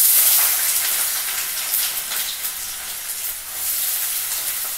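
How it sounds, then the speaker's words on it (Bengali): Onions and carrots sizzle in hot oil for chow mein, a loud, close, continuous frying hiss that swells and eases slightly throughout. "আমার তেলটা গরম হয়ে গেছে, আমি প্রথমে আগে পেঁয়াজ আর গাজরটা দিয়ে নিচ্ছি"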